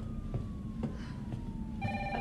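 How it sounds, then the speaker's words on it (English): A telephone ringing in the video game Resident Evil 3, an electronic ring tone with repeated bursts over a steady game ambience. "Now the phone rings."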